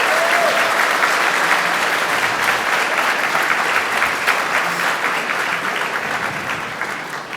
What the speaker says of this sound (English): So let's have a huge round of applause for Luke and Nate.